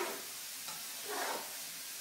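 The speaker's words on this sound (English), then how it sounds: "Alright, let's take care of our last few moments of sauteing." Pieces of tofu sauteing in a pan for a lemon stir-fry, a faint, soft, steady sizzle with gentle stirring swells, fairly quiet and without speech.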